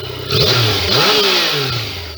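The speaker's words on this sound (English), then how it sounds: "I'll give her a rev." A Yamaha FZ09 motorcycle with its stock exhaust revs once, loud and close: a sharp climb in engine pitch, then a slow fall back toward idle.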